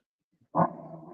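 A single dog growls and barks close by, one sharp onset that trails into a low, rumbling snarl.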